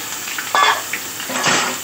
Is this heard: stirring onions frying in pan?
yes